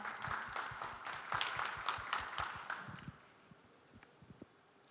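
A welcoming round of applause from an audience at an innovation fair, steady clapping that thins out and fades to a few scattered claps.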